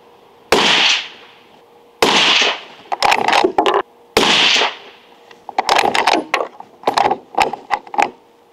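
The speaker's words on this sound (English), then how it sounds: "All right, we're going to shoot the bottom middle target." Shots from a Strasser straight-pull rifle fired at targets: loud, close reports spaced a second or two apart, each followed by a flurry of metallic clicks and clacks as the bolt is cycled.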